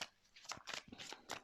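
Tarot cards are laid out for a card reading, producing several soft, quick slaps and slides of card stock, close and quiet, in a short burst of four or five touches.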